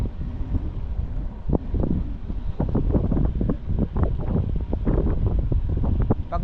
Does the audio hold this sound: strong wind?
yes